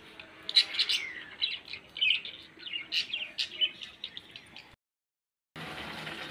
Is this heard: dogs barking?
no